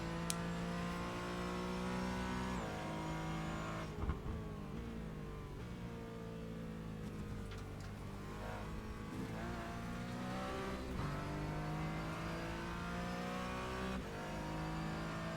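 Porsche Cayman lapping Zolder circuit, its engine droning steadily from inside the cabin with rising and falling pitch through gear changes and corners, no talk.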